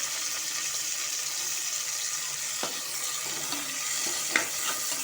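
Tomato and two small green chillies sautéing with onions in a pan for mushroom biryani, a faint steady sizzle with a couple of soft stirring scrapes, no talking.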